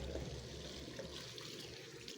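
Running water washing talbos vegetables at a sink, a continuous splashing gush with no pauses, close and steady throughout.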